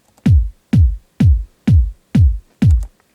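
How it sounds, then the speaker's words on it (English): Six evenly spaced punchy sampled kick hits, a thumpy low kick layered with a clicky top kick and a crisp hat on each beat, loud and alone in a steady four-on-the-floor house pattern. "So together they sound like this."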